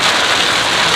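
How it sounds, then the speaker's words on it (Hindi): Heavy monsoon rain falls in Goa, making a loud, dense, unbroken hiss of downpour close by. "खतरनाक बारिश हो रही है भाई।"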